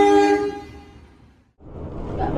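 A Dhoho Penataran passenger train's horn sounds and fades away at Sepanjang station, followed by a brief hush and then the rising rumble of the train moving off.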